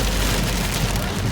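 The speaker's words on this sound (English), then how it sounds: "This is hail. We're in a hailstorm." Hailstones pelt down steadily during a hailstorm, a dense, close, even patter with no pauses across the short stretch.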